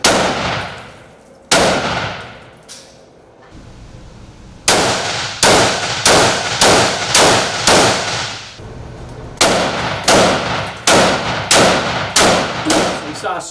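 Live fire of 7.62 rounds into a composite panel, loud sharp shots with clanging impacts, a few single reports, then a pause, then a steady string of regularly spaced shots each trailing off.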